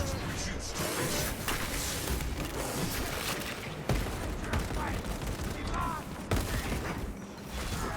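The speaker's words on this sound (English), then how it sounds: "Servo gun engaged." Servo gun fire from a Techmarine in Space Marine 2, a dense continuous barrage of rapid shots and mechanical clatter running throughout, loud and busy with battle noise layered over it.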